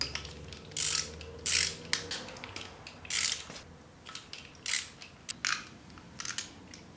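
A ratchet wrench loosens 14mm bolts holding the rollers on an engine being torn down, in bursts of fast clicking separated by short pauses, close and clear.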